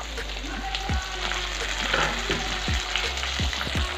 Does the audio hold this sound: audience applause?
no